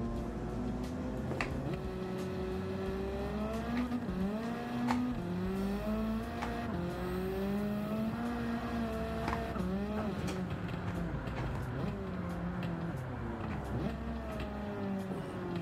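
A Honda Type R engine drones steadily while driving, its pitch climbing and dropping repeatedly as the driver works through the gears, loud and continuous with no talk over it.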